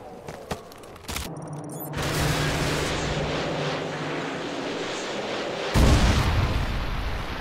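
AGM missile strikes in Call of Duty Modern Warfare 3, a heavy rumbling blast that swells and sustains, followed by another deep boom near the end, with no talk.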